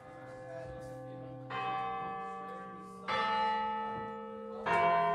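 A school bell rings in the indie video game Walk in the Sun, with three bright, resonant strikes spaced about one and a half seconds apart, each ringing on and slowly fading into the next.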